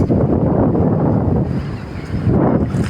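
Strong wind on a beach at Şarköy, Tekirdağ, buffets the microphone in a loud, continuous rumble that swells and eases, with no voices.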